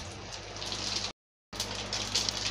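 Bay leaves, dried red chillies, cardamom pods and cinnamon pieces crackle in hot oil while tempering moong dal cooked with a rohu fish head; a loud, steady hissing sizzle breaks off briefly, then resumes.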